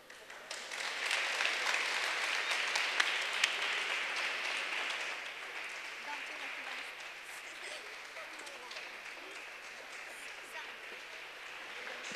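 Crowd applause for the actors at a Children's Day event in the National Assembly, a dense steady wash of clapping that swells early and then eases to a sustained lower level, with a voice over it.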